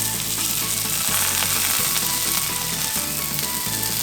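Mushrooms sautéing in a pan until golden brown, a loud dense sizzle throughout with a low rhythmic rattling undertone, close up and with no talking.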